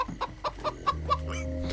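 A chicken in Minecraft: Story Mode gives a quick series of about six short clucks, followed by a steady low electronic hum.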